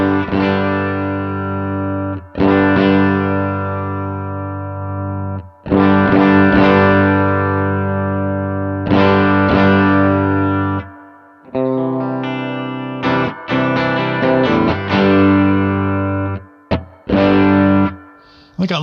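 An electric guitar runs through a Line 6 POD amp modeler set to a compressed, distorted tone. Sustained chords and short riffs ring out loud and close, separated by brief pauses.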